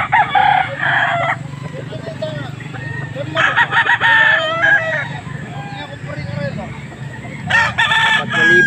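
A rooster crows several times, loud and close, over a busy background of clucking fowl and general farmyard noise.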